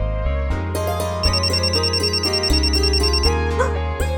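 A phone's ringtone plays a bright, looping electronic melody of steady sustained tones for about four seconds, clear and close with no one talking, in a Hindi family TV drama scene.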